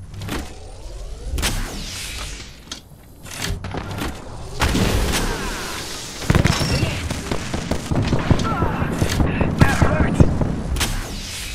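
In the battle royale video game Apex Legends, bursts of gunfire crack out repeatedly over a busy mix of in-game effects. Shots land in clusters, some close and loud, others sharper and scattered, with rumbling impacts between them.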